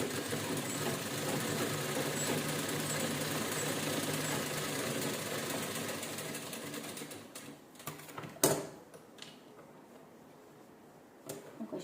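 A sewing machine stitches canvas in a fast, steady mechanical chatter that runs for several seconds, then slows and stops, leaving a sharp clunk and a few light handling knocks.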